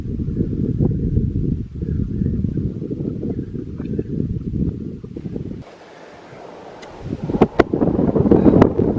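Heavy, cold wind on a Wairarapa deer-hunting morning rumbles and buffets the microphone, briefly easing to a quieter hiss before gusting back up with sharp pops.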